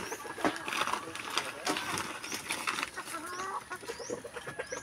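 Hungry farm chickens clucking close by in a small flock, repeated short clucks and calls scattered throughout, with people talking over them.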